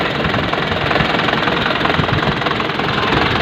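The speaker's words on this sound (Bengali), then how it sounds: "গাড়িটা স্টার্টের সাউন্ড শোনায় দেওয়া হবে।" A fresh, fully serviced car engine idles steadily just after starting, a loud, close, continuous rumble with a slight knocking pulse and no voices.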